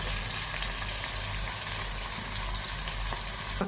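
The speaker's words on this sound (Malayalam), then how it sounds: "ചിക്കൻ പൊരിക്കുകയാണ്." Chicken frying in a pan of oil, a steady continuous sizzle with faint crackles throughout, close and even in loudness, with no voices.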